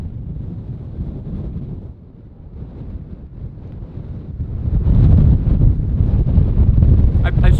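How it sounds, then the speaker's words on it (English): Strong wind at the summit of Maui buffets the microphone in heavy rumbling gusts, easing briefly and then growing louder and rougher toward the end. "It's way too windy."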